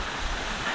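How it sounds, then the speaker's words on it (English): Heavy rain in the mountains beside rushing water near a seasonal waterfall, a dense, steady roar of broadband noise, loud and continuous through a very short moment. "It's full on raining out here."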